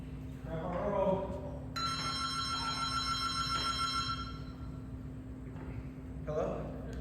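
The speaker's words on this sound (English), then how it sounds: "Grandpa Earl, your phone's ringing." A telephone ringing on a theatre stage during a play, one sustained bright electronic ring burst in the middle, with actors' voices speaking before and after it.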